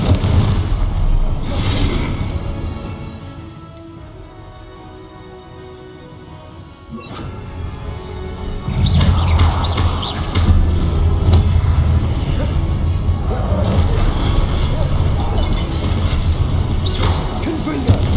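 A Confringo fire-blast spell explodes in Hogwarts Legacy, booming with crashing impacts and a sustained roaring rumble amid combat noise.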